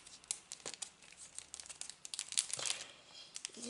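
Sheets of roughly 170 gsm craft paper from a papercraft subscription box are handled up close, giving irregular crinkling and rustling bursts with no voices over them.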